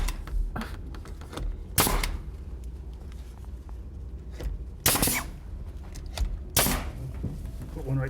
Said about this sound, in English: using the nail gun